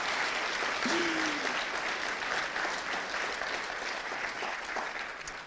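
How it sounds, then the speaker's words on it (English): Applause from a conference audience fills the room, many hands clapping in a steady, dense patter that slowly tapers toward the end, with a brief voice heard over it early on. "So actually, this deserves another round of applause for him."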